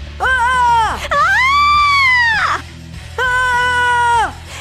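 A person lets out three long, loud screams, drawn out and wavering, separated by short pauses.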